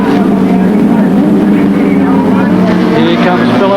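Racing superbikes, Honda and Suzuki machines at a 1984 Swan Series race in Australia, roar loud and close as a continuous engine scream, pitch shifting under braking with a commentator talking over it.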